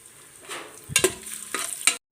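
Raisins frying in the same oil used for cashews, a soft sizzle broken by a few sharp clinks and scrapes of a spoon stirring in the pan, brief and close.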